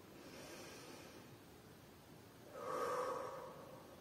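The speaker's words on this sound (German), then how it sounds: "und atmet wieder tief ein." Slow, audible breaths drawn in through the nose during a Wayne Cook posture energy exercise, a soft airy inhale swelling into a louder, deeper intake near the end, close to the microphone.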